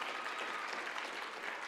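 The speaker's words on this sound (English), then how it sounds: "Come on, give him a round of applause" Audience at a youth legacy gala applauds an award recipient, a dense, even wash of clapping heard from some distance and fairly faint, steady throughout.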